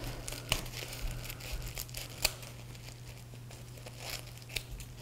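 Paper ends being trimmed with scissors, a few sharp snips and crinkles standing out against a steady low hum, close by with no talking.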